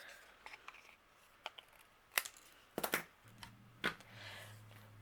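Excess material is trimmed off a crate in short, sharp snips and clicks at close range. The cuts come in irregular bursts over a quiet background, with a low hum near the end.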